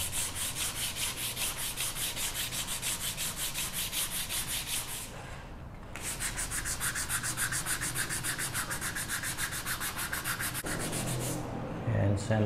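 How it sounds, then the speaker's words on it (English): Steady back-and-forth rasp of 120-grit sandpaper worked by hand along the grain of a wooden tissue box, close and continuous with a brief pause midway and a few knocks near the end. "Make sure you sand with the grain when you're sanding."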